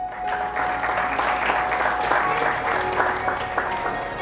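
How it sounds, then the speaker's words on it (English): An audience applauds a group of students. The clapping is sustained and even, with a few voices mixed in under it, and it holds at a moderate level for about four seconds. "So again, we can applaud them."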